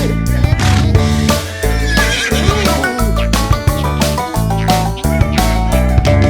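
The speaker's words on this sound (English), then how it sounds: "With a neigh-neigh here and a neigh-neigh there" Repeated horse neighs and whinnies sound over loud, bouncy music, recurring in a steady rhythm throughout.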